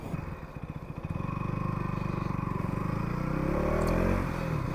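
A KTM Duke 200 motorcycle engine from the 2024 edition cranks and catches, then settles into a steady, close single-cylinder idle with a rhythmic throbbing pulse that swells slightly toward the end.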